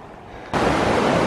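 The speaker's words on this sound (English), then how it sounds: "There's where the river, Toxaway River, flows into Lake Jocassee, I believe." The Toxaway River flowing into Lake Jocassee along the Foothills Trail, a steady broadband rush of moving water that jumps abruptly louder halfway through, continuous and close with no voices.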